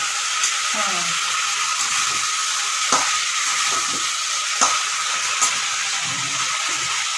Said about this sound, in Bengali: বেগুন আর কাঁচকলা ভেজে রেখেছিলাম ওইটা ওগুলো দিয়ে আবার একটু নাড়বো